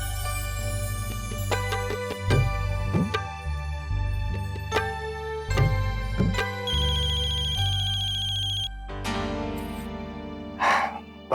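A telephone ringtone plays on its own in a Hindi TV drama scene, a melodic electronic tune with repeated chiming notes over a steady background, loud and close, with no talk during it.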